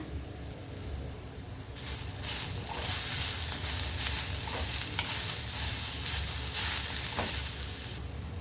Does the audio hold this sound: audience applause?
no